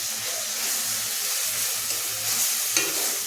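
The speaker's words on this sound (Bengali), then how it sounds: "মশলাটা কষিয়ে নিয়েছি" Spice paste of coriander, cumin, turmeric and chilli powder sizzles and is stirred in a pan for pabda fish curry, a steady close frying hiss with soft scraping and a sharp clink near the end.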